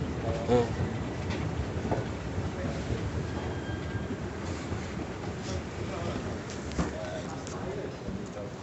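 A train rumbles steadily around a Saudi train station with a continuous low roar and occasional clacks, while people talk nearby.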